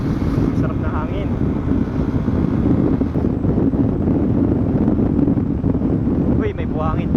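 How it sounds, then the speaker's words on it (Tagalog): Wind blows steadily at Madongan Dam in Ilocos Norte, a loud, rough rush buffeting the microphone throughout, with brief voices talking near the start and end. "Sarap na hangin."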